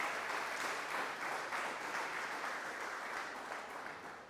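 A church congregation claps steadily after a closing prayer, a dense, even wash of many hands that holds without pause and eases off slightly toward the end, heard from a distance and fairly soft.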